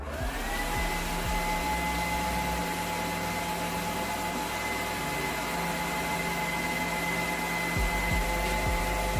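Hooded hair dryer running at a salon-style home setup, a steady loud whooshing blower hum with a faint tonal whine, continuous and close throughout.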